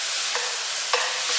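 Squid adobo is stirred in a hot pan. A steady sizzle runs throughout, with a couple of brief scraping strokes from the spoon or spatula. No talking.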